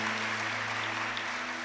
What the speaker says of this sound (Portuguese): vamos dar uma salva de palmas para os discípulos de Jesus